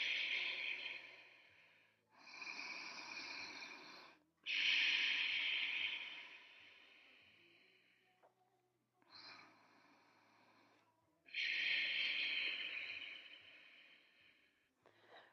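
Deep, audible breaths during a power yoga flow, four long exhale-like rushes spaced a few seconds apart, close and soft with quiet pauses between them.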